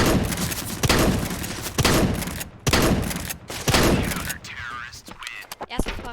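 Gunfire in Counter-Strike: Global Offensive, several loud bursts of rapid shots with pauses between them, mixed with game noise and someone talking over it.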